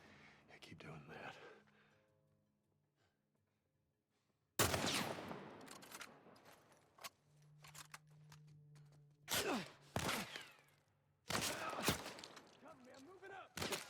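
Bursts of gunfire from The Last of Us gameplay come in loud clusters separated by quieter stretches, with people talking around the shots.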